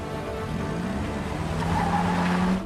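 A car chasing another car in a movie action scene: a loud, sustained engine roar with rising tones and a hint of tire squeal, continuous throughout before cutting off abruptly.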